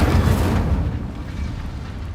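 An Incendio fire spell cast during spell practice in Hogwarts Legacy erupts as a loud, dense booming blast that holds steady and then slowly fades.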